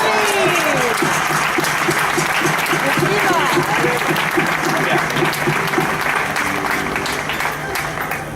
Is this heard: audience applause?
yes